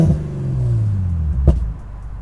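A Lexus IS350 with full bolt-ons and an M Force Stage 2 tune revs briefly toward 3000 RPM, the engine note falling back before a single sharp exhaust pop near the end, close and clear with no talking.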